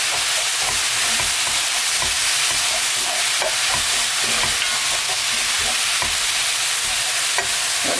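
Food sizzles and is stirred in a hot pan with soy sauce and oyster sauce, a continuous bright frying hiss broken by repeated scraping and clacking of the utensil, close and steady.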